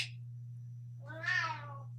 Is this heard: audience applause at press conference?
no